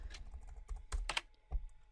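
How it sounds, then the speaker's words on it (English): Quick bursts of keystrokes on an English-layout computer keyboard in a video game, a handful of sharp clicks in an uneven rhythm, close and fairly quiet with no talking. "Englisches Keyboard"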